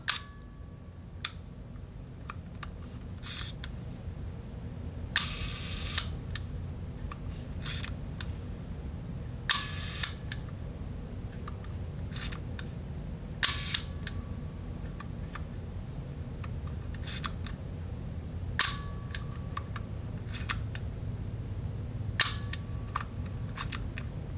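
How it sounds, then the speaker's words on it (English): Sharp leaf-shutter clicks from a reassembled Mamiya C220 twin-lens camera with an 80mm f/2.8 lens fire one at a time at irregular intervals, some with a brief whirring snap, over a quiet low room hum. "let's do one more test of the shutter mechanism, make sure it still works after it's been reassembled"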